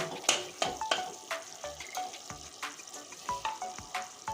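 Masala fries in oil in a kadai for a vegetarian chickpea chana masala, crackling up close as a spoon scrapes and knocks against the pan in a quick, irregular rhythm.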